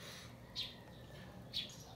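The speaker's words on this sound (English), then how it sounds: "Mga sis, ayaw talaga tumigil ng mga ibon. Nagdadaldalan sila." Birds chirping outdoors, with two short, bright calls about a second apart over a steady low background hum.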